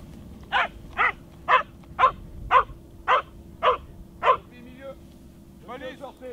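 A police dog barks in a steady series of about eight sharp, evenly spaced barks at close range, followed by softer whimpering and then a voice speaking.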